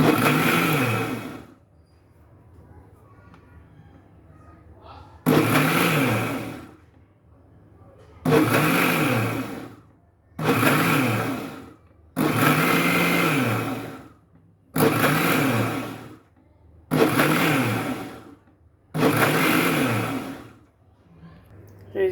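A kitchen blender whipping homemade mayonnaise runs in about eight loud bursts of one to two seconds each, separated by short quiet gaps as it is switched on and off.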